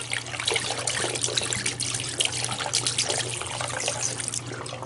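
Antifreeze trickles and pours steadily into a sink drain trap during winterizing of household water lines, a continuous close liquid flow with a low steady hum beneath it.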